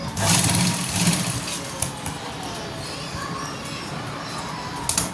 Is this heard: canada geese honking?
no